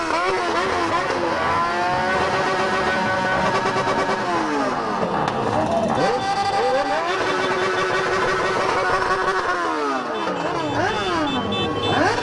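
Yamaha XJ6 motorcycle with a straight-pipe exhaust revving loudly and continuously, engine pitch climbing and dropping through repeated throttle blips, close and dominant throughout.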